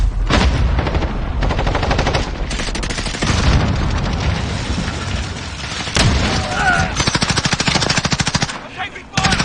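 Call of Duty Modern Warfare firefight with rapid bursts of automatic gunfire and sharp shots, loud and close in repeated volleys, while a player talks over the action.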